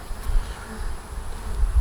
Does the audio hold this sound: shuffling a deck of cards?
no